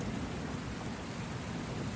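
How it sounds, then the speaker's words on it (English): Soft evening rain falls outside thick castle walls in a steady, muffled patter, a continuous even hiss with no pauses and no voices. "Outside, the evening rain continues to fall, its soft, muffled patter against the thick exterior walls"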